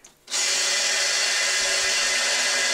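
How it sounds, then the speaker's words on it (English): A power drill bores pilot holes into the corners of an armoured scout car body replica of an SdKfz 222, running loud and steady after a brief quiet start, with no talk. "Once I get a pilot hole drilled, I'm going to switch over to that step drill."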